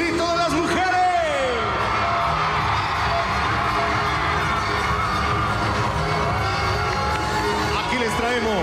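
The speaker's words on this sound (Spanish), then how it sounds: "Ahora sí, un grito de las mujeres." Women in a lucha libre wrestling crowd in Mexico City scream loudly, a dense, sustained wall of high shrieks and cheering that fills the arena throughout.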